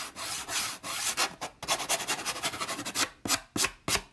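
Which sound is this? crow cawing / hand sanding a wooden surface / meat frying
hand sanding a wooden surface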